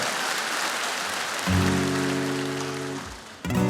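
Studio audience applause at a Ukrainian comedy music battle show, a broad steady clatter of clapping that is joined midway by a loud musical tone and ends in a sudden burst of music.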